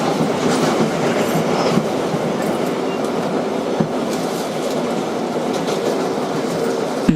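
A 2012 Kawasaki R-188 car on the 7 subway train runs steadily, with a loud, continuous rumble and rhythmic clickety-clack of wheels on track, heard from on board with no talking.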